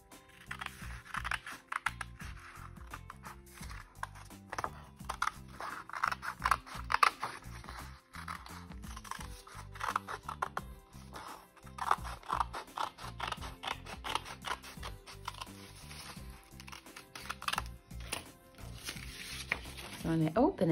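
Scissors cut out a shape from folded paper, making a series of irregular snips and paper rustles close by. A voice talks quietly over part of the cutting.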